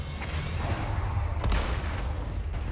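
Gunfire in Resident Evil 4 Remake, a dense, loud burst of shots with one sharp crack standing out midway over a continuous low rumble.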